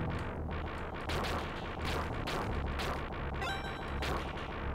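Flamethrower fire in the arcade game Alien Syndrome booms in a dense run of repeated rumbling blasts over a constant loud game soundtrack, with no pause between shots.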